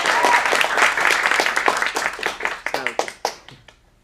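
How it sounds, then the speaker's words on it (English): Applause from a small audience at a teen acting showcase in a studio, dense clapping that thins into scattered, separate claps before fading out. "Can we actually get a little side round of applause?"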